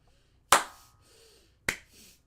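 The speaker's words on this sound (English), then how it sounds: "That is me clapping" Two sharp hand claps at close range, well separated, each with a brief bright decay into a quiet room and no talk over them.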